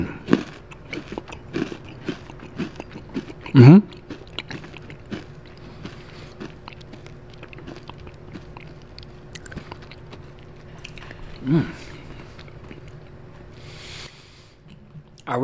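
Close, intimate biting and chewing of a crisp lemon Thinsters cookie, with a few sharp crunches early on and later, then soft, sparse mouth sounds in a quiet room.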